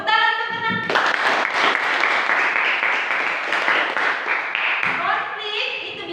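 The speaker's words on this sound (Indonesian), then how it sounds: "Tepuk tangan untuk Mirna." A classroom breaks into applause for a student named Mirna, a burst of many hands clapping for about four seconds, framed by a teacher's voice before and after.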